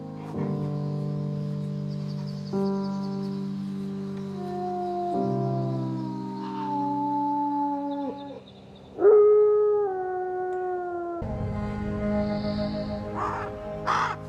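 A lone wolf howls in long, sustained, wavering notes, several howls in succession rising and bending in pitch, fairly close and clear against a quiet background with no talk.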